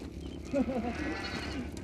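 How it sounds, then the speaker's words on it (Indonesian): A goat bleats, one short wavering cry close by, under a steady background murmur. "Nih, saya bawa kambingnya."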